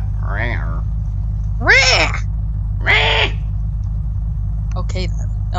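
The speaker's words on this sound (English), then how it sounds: "Sounds like a cat." Cat meowing in the Unturned video game, three drawn-out meows at medium loudness with gaps between them, followed by a short rattling burst, all over a constant low engine drone from a car driving.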